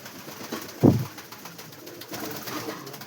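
Domestic pigeons kept by a fancier at night give a single low, soft coo about a second in, over a quiet background with faint rustling.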